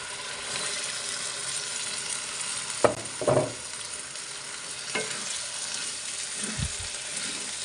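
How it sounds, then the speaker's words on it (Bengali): Boiled chana dal tipped into fried spices in a pan sizzles steadily, with a few close thuds and scraping stirs standing out over the continuous frying hiss. "এখন মশলা কষানো হয়ে গিয়েছে এর মধ্যে দিয়ে দিব সিদ্ধ করে রাখা ছোলার ডালগুলি"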